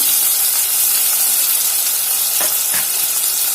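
Two medium thinly sliced onions fry in a pan, giving a steady loud sizzle with a couple of brief clinks or stirs near the end.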